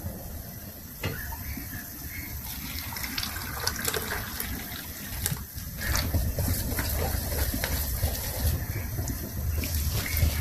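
Hot water pours into wheat flour and glutinous rice flour for homemade noodle dough, a steady liquid gush that thickens and grows fuller partway through, close and moderately quiet.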